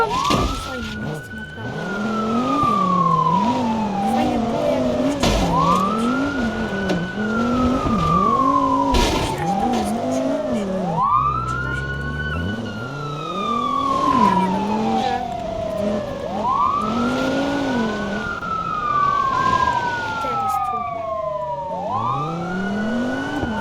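A police siren wails in the driving game BeamNG.drive, rising and falling in repeated long sweeps close by, over engine noise and tire skids, with a chase underway throughout.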